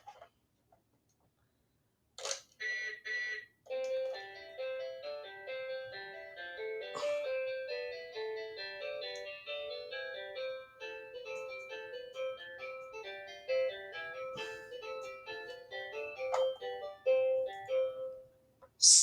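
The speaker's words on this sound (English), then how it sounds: "Now, we'll listen to the Fun and Learn Phonics bus version." Tinny electronic chime melody of Yankee Doodle from a LeapFrog Fun and Learn Phonics Bus toy, a bouncy march tune of bright synthesized notes playing steadily for most of the stretch after a quiet opening, with no voices.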